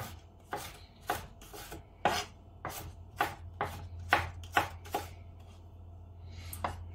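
A knife slices vegetables for a chicken basquaise on a cutting board, about a dozen crisp chopping strokes in an uneven rhythm, close and quiet, with no voices.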